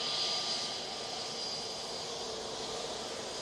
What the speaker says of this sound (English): Well, Mark, we will get you once the aircraft turns onto the runway